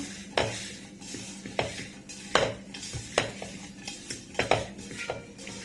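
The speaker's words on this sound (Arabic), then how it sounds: "الفلفل الاخضر والطماطم نقلبه بقى في بعضه" Green peppers and tomatoes stirred together in a pan, with repeated sharp scrapes and clinks of a spoon against metal every half second or so over a soft sizzle.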